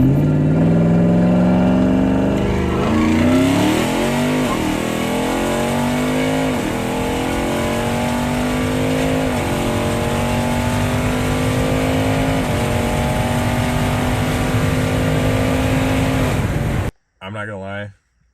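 A twin-turbo Ford F-150 pickup in sport mode and four-wheel drive accelerates hard from a launch, its engine roaring loud and close with pitch climbing through several gear shifts before cutting out abruptly near the end.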